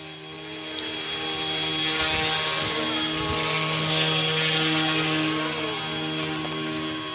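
A Yu Xiang F07 UH-1D Huey 1:34-scale RTF RC helicopter flies nearby, its motor whine and rotor hum steady and loud, swelling slightly and holding throughout with no talking.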